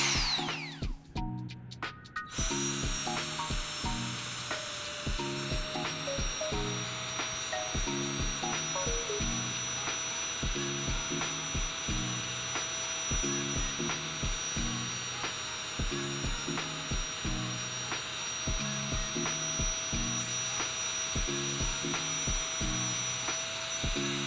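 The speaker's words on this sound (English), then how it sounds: "turn the fan on to get it going" An Aerogogo GIGA Pump 4.0 electric air pump runs steadily with a constant motor whine, overlaid by a regular rhythmic ticking pulse throughout.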